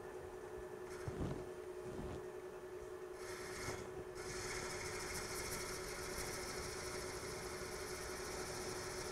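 Bradford pear bowl blank spinning on an American Beauty woodturning lathe, a steady motor hum with gritty rubbing and scraping from the tool, a few brief scrapes early on, then continuous tonal whirring throughout.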